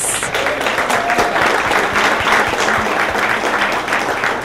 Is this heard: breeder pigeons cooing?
no